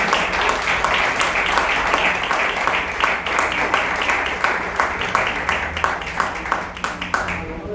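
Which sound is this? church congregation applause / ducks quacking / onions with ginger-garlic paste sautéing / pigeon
church congregation applause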